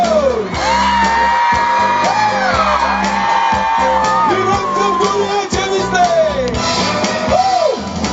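Girls in a concert crowd squeal, whoop and cheer loudly and continuously, their high rising and falling shrieks layered over a dense roar of voices close by.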